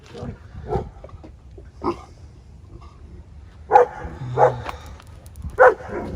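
Guard dogs bark in short, separate bursts spaced a second or so apart over a steady low background hum, sounding moderately distant.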